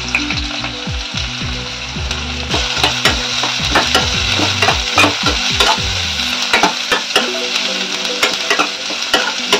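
Beans, carrot and cabbage sizzle steadily as they fry in a pan, with repeated scraping stirs clattering over the continuous crackle, close and fairly loud, with no talking.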